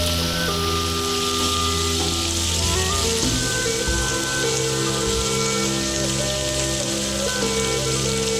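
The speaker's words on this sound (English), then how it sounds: "I highly recommend stir-frying pork separately like this." Steady, dense sizzling of pork stir-frying in a hot wok, with a faint hum underneath and no voices.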